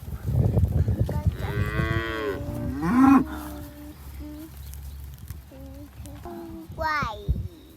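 Cows and calves mooing on a ranch as they are let out to water, several drawn-out calls at varied pitch, some close and some farther off, mixed with a voice and low rumbling noise.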